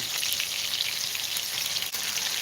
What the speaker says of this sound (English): Got to get a good sear on this meat here